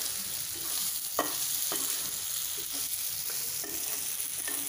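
Okra masala is stirred in a sizzling pan, a steady fry hiss with soft spoon scrapes every half second or so, close and moderately quiet, no talk.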